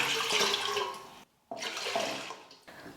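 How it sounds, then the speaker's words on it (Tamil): Water gushes steadily from a vessel into a heavy cooking pot, broken by a brief pause before a second strong pour, close and fairly loud. "இப்போ இதில் தண்ணி சேர்த்துக்கலாம்."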